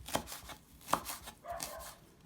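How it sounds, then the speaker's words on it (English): Fresh chia leaves being cut with a knife, heard as a couple of sharp, quiet cutting clicks spaced about a second apart against a soft background. "I'm going to cut my chia leaves"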